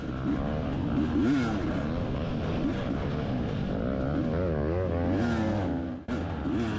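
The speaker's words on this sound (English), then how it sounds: "I'm riding my 250 two-stroke Husqvarna TE enduro model" A 250 two-stroke Husqvarna TE enduro motorcycle races through a harescramble trail, its engine wailing loud and close with constant revving rises and falls.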